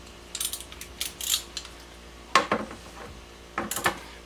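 Wrench tightening a 14 mm battery terminal bolt on a solar system install, several short metallic ratcheting bursts in separate clusters, close and fairly quiet.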